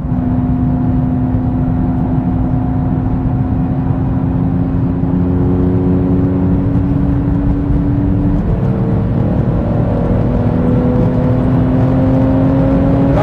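A Manhart TR 900 accelerates hard, its engine note a loud steady whine climbing in pitch, briefly dropping at a gear change, then rising again in a continuous rush from inside the car.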